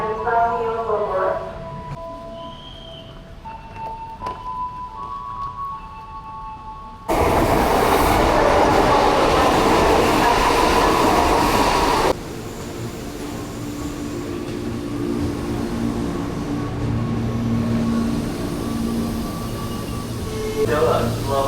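A 12-car commuter train at Bogor station, heard as a loud burst of rail rumble and wheel noise that fades into steady station ambience, with voices and announcements nearby.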